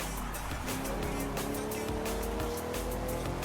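Car tires skid and scrub in Forza Horizon 5 over a loud, steady engine drone on a jungle stretch, the squeal rising briefly amid constant road and motor noise.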